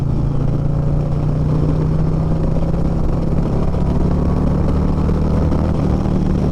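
A 2024 Harley-Davidson Street Glide engine pulls hard up to 4,000 RPM, a steady loud low rumble that holds and builds throughout with wind noise and no talk.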